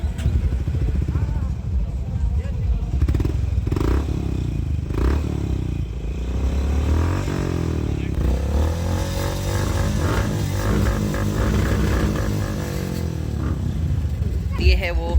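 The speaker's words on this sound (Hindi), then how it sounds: "चलो इसकी आवाज़ सुनते हैं एक्चुअल में कैसी है अपनी होंडा हाइनेस पे।" A Honda H'ness CB350 motorcycle with a new Red Rooster exhaust silencer rumbles steadily and loudly with a deep, throaty note, revving up and down over background clatter.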